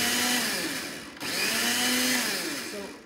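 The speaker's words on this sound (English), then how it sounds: "Let's go ahead and pop the top on our food processor here. And I'm gonna pulse it," A food processor whirs loudly while pulsing a creamy jalapeño ranch dip, with two long bursts of motor noise split by a short dip between them.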